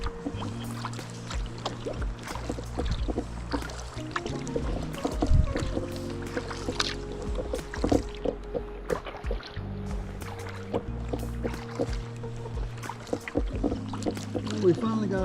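Kayak paddle strokes splash and drip through calm water in a creek lined with hardwoods and cedars, a steady close rhythm of sloshing and trickling running throughout under faint ambient noise.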